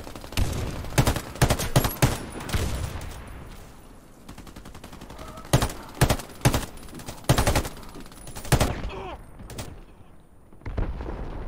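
AK rifle gunfire in the shooter game Warface: several sharp bursts of shots spaced by short pauses, loud and close, with no speech over them.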